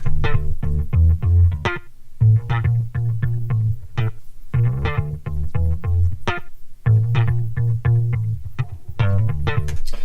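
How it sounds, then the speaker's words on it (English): A deep, buzzy bass loop pulses in a repeating groove, with clicky percussive hits layered on top and brief gaps between phrases. "moving forward, the bass loop sounds like this"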